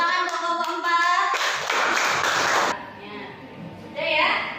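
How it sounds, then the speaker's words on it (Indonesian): Classroom applause for a student group, a brief burst of many hands clapping after a voice, then fading as talk resumes nearby. "Tepuk tangan untuk kelompok 4."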